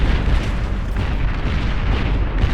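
A big explosion in the real-time strategy game Beyond All Reason during a free-for-all match, a dense, loud rumbling blast that roars steadily for a couple of seconds with no voices over it.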